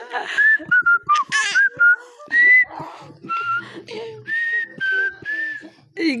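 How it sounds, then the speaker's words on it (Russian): Someone whistles a tune at close range in a string of clear, sustained notes broken by short pauses, with some breathy sounds and faint background noise between the phrases. "Давай свистеть."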